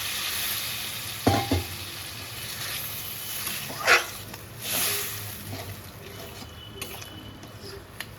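Water goes into a pan of fried spices and vegetables, cooking pointed gourd with prawns, with a sharp splash and sizzle followed by steady bubbling and frying hiss and a few stirring clanks.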